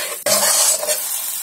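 Boiled eggs tossed and stirred in hot oil for an egg curry: a sharp clank of a utensil, then a loud, close, bright sizzle that gradually settles.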